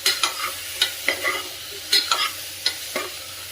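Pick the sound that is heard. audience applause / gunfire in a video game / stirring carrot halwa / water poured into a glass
stirring carrot halwa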